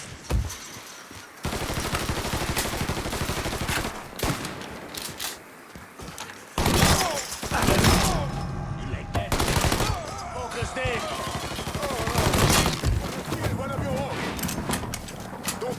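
Sustained rapid gunfire and automatic bursts in the video game Mafia III, loud and near, with repeated shots throughout, under shouted voices during a firefight.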